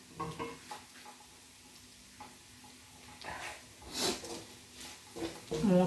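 Ginger, garlic and curry leaves sizzle quietly in a pan while being stirred, with soft scraping strokes and a few clinks rising through the low frying hiss.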